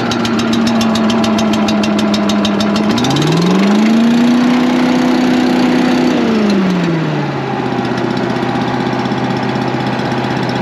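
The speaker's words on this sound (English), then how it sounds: "We'll give it about, you know, half, three-quarter throttle, and we'll give it a pull." A Champion 100730 blower's small gas engine runs loud and close, holding a steady drone, rising in pitch for a few seconds under more throttle, then dropping back to a lower, even idle.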